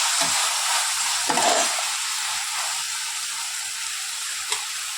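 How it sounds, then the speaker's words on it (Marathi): Leftover rice is stir-fried with dark soy sauce and vinegar for Schezwan fried rice. A loud, continuous hissing sizzle fills the clip, broken by a few scraping stirs of the spatula up close. "त्यानंतर डार्क सोया सॉस टाकून घेतलेला आहे एक चमचा आणि इथे विनेगर टाकलेला आहे एक चमचा छोटा छान परतून घ्यायचा आहे"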